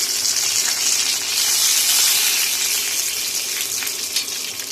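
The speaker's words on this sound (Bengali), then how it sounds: "তেলটা গরম হয়ে গেলে এখানে তেজপাতাটা দিয়ে দিলাম।" Bay leaf dropped into hot oil for a small-fish chorchori sizzles sharply, a bright, close crackling hiss that swells and then settles slightly.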